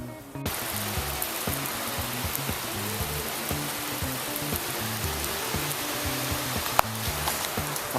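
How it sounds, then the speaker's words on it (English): Heavy rain pours down steadily in a yard during a downpour, a dense continuous hiss of drops drumming on surfaces, loud and close throughout with no voices. "Nice downpour, as long as it doesn't come down any harder."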